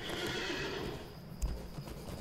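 A horse in the game LOTRO, the Steed of the Ash Plains mount, gives a short whinny with a few hoof clops, close and moderately loud, over a soft game ambience.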